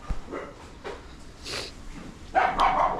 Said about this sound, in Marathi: हे कुत्रे भुकायला लागले.